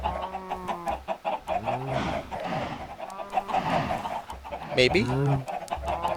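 Chickens in the video game Minecraft cluck repeatedly at close range, a series of loud, pitched squawks coming in bursts, with a voice speaking briefly over them.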